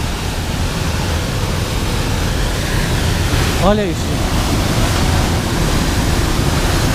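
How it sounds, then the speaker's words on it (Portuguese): A main waterfall cascade in the mountains at Santo Antônio do Pinhal roars with heavy water flow, a steady, loud, close rush throughout, while a voice speaks one brief word. "Acredito que essa daqui seja a cachoeira principal. Olha quanta água tá vindo aqui."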